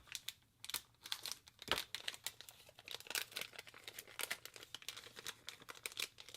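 A plastic product package is cut open close by, with dense crinkling, crackling and tearing in irregular bursts. The sound is fairly quiet and there is no speech.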